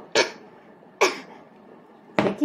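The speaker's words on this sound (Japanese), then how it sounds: "咳してるふりだな、" A person fakes three short, deliberate coughs with a throaty edge, evenly spaced about a second apart and fairly close.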